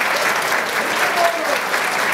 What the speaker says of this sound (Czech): Počkejte, k tomu vy musíte tleskat